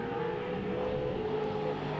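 A Pro2 short course race truck engine revs high and whiny at a 2021 Great American Short Course round at the SBC Fairgrounds, a steady sustained roar from mid-distance with no voices over it.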